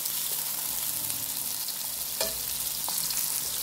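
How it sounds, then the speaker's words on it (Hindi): Onions fry in a pan, giving a steady dense sizzle throughout, with a few soft scrapes and clicks from a spoon stirring them. "अब भी इसमें मैं चम्मच चला दूंगी और प्याज को मैंने गोल्डन ब्राउन करना है"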